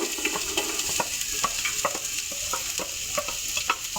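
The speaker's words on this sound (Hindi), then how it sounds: "ऑयल थोड़ा गर्म हो जाए तो फिर इसके अंदर डालेंगे प्याज।" Finely chopped small onions sizzling in hot oil for a pot of beef yakhni pulao, a steady frying hiss with scattered crackles and stirring clinks throughout, no voices.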